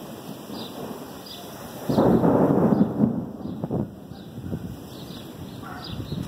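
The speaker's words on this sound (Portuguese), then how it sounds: "Olha os raios. Nos estrondos." Thunder from an approaching storm in Torres, Rio Grande do Sul, a distant low rumble swelling around the middle and fading again over steady background ambience and light rain-like hiss, with no speech.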